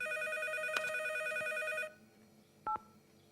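An electronic telephone ring sounds steadily for a couple of seconds in a cartoon household, then stops, leaving a short quiet pause before one brief beep.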